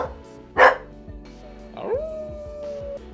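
A dog lets out one sharp bark followed by a whining howl, close and fairly loud, set against a quiet indoor background.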